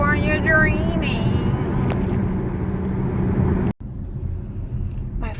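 Dense road traffic while driving in Los Angeles, California: a steady rumble of car engines and tyres on the roadway from inside a moving vehicle, with a brief cut partway through before the road noise resumes.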